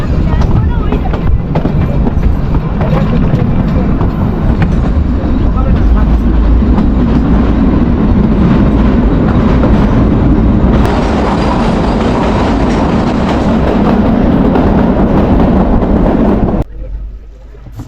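The Kalka–Shimla toy train on its narrow-gauge mountain line makes a loud, continuous rumble and rattle of running wheels and carriages, heard from on board, that holds steady and drops off abruptly near the end.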